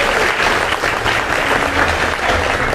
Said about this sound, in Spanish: El saludo y el aplauso principal para ustedes.